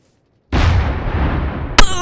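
A Minecraft Create Big Cannons mod cannon fires after a moment of silence, a sudden loud booming blast with a rumbling tail and a sharp crack near the end, no talk.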